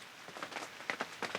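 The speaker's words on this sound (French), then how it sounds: "Une musique de pluie" Rain falls in soft, scattered patter, a quiet steady wash with a few closer drops standing out, no voices.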